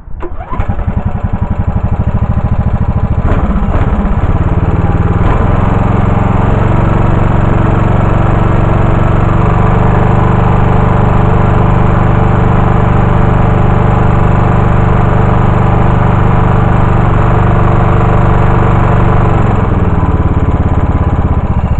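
Repaired lawn tractor engine catches after a few cranking turns, then runs loud and steady at close range for about twenty seconds with no voices.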